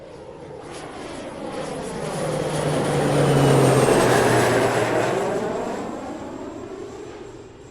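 A jet airliner on a London-to-Zurich flight coming in to land at Zurich, its engine roar swelling from a distance, peaking loud overhead around the middle, then fading away with a falling whine.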